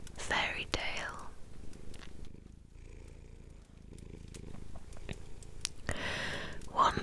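A cat purrs close and soft as a low, steady rumbling drone beneath intermittent whispering, with quiet stretches between the breathy voiced bursts.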